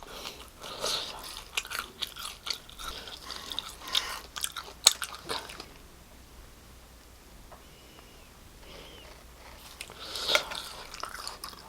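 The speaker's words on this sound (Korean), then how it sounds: "설탕이 자글자글 씹히는 꿀오떡입니다." Crisp bites and crunchy chewing of pan-pressed fish-shaped bread filled with sugar and crushed peanuts come in close bursts, with a quieter pause in the middle before more crunching.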